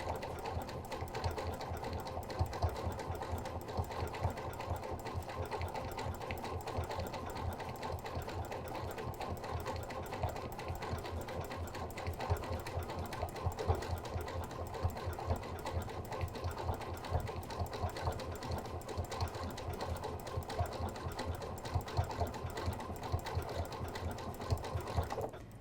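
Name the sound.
Janome sewing machine stitching a seam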